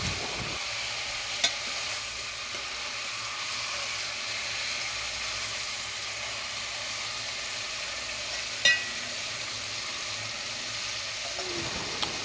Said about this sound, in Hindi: अच्छी तरह भुनाई करें चिकन की जब तक कलर चेंज ना हो जाए।